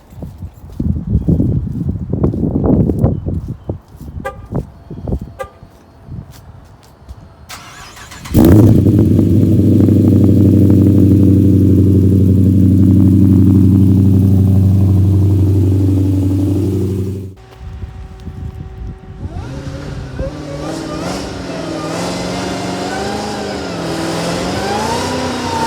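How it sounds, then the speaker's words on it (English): Dodge Charger Demon built for racing, heard at a cold start: clicking and rattles, then the engine fires into a loud, steady high idle, drops, and is revved with rising, wavering bursts. "So let's do a cold start"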